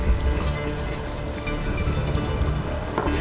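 Heavy rain falls in a steady, loud hiss of pattering drops, dense and continuous from start to finish with no voices over it.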